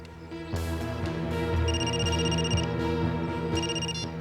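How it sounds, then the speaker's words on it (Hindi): An electronic telephone ring repeats in short bursts over a dense, sustained musical backdrop, fairly loud with no talking. "अभी अभी फोन आया"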